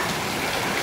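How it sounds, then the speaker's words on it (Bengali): Heavy storm rain pours outside a bedroom window, a dense, steady wash of hiss and patter that stays loud and unbroken throughout. "বাইরে প্রচণ্ড ঝড়ে বৃষ্টি পড়ছে"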